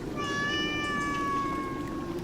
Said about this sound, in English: your neighbor's cat could do it